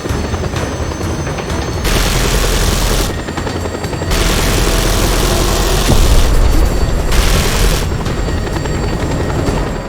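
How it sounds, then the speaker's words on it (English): In Just Cause 2, a military helicopter's rotor roar continues under sustained automatic gunfire and booming impacts as it takes hits, loud and dense throughout. "This helicopter's getting beat up, eh?"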